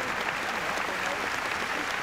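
Audience applause at a Vietnamese Lunar New Year comedy show honouring an artist's 40-year career, a dense, continuous wash of many clapping hands filling the hall.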